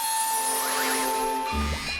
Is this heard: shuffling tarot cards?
no